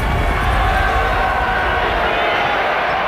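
A racecourse crowd stands during a horse race between Man o' War and Secretariat, making a dense, steady roar of many voices with a rumbling low end that does not let up.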